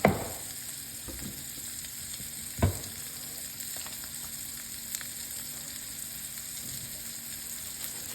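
Steak sears in a hot oiled pan with a steady, even sizzle, broken by a couple of soft knocks near the start and partway through.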